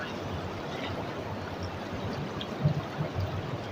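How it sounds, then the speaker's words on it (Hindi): The Ganges river flows between two mountains, heard as a soft, steady, distant rush of moving water that holds constant throughout, with a few faint low bumps near the end. "दो पहाड़ों के बीच से गंगा नदी निकलती हुई"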